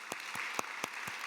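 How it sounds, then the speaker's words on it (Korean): A congregation claps in a slow, evenly spaced beat, five faint distinct hand claps over a soft background hush. "성령 하나님께 영광의 박수 올려드리겠습니다."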